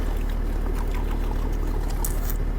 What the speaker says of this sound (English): You can hear it gurgling over there.